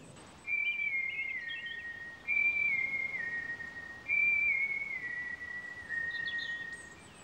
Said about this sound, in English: she whistles a windy tune out loud